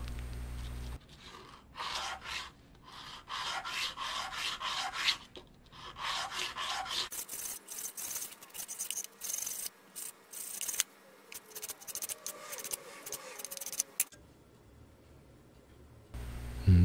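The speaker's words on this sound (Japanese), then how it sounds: "これね、紙やすりなんですけど、60番ぐらいのね、粗いザラザラしたやつですね" Coarse 60-grit sandpaper rubbed by hand over a small DIY fire-blowing pipe, a close, rasping scrape in repeated strokes with short pauses between bursts.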